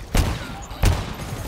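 Gunfire in the video game GTFO, two loud, close bursts of shots about half a second apart over a dull background rumble, with no talk.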